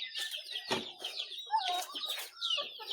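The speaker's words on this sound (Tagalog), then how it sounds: "Yung mga pabo." Turkeys on a small backyard farm gobble and cluck faintly in a quick, busy chorus of overlapping bird calls, with a few sharper bursts standing out over a quiet background.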